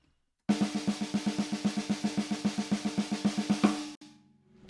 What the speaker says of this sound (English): 6 hits in between each quarter note,